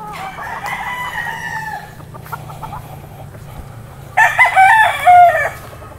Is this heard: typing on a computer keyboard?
no